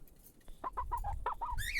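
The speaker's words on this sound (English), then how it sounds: "Chickens are so cool." A chicken clucks close up in a quick run of short, rhythmic calls, with a louder squawk at the end and a low rumble of background noise.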